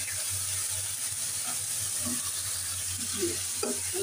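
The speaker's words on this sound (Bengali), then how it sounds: "রসুন বাটাটা ভাজা হয়ে গেছে" Garlic paste frying in a pan for a Bengali chicken curry with sour yogurt, a soft steady sizzle and hiss with faint stirring scrapes, quiet and continuous.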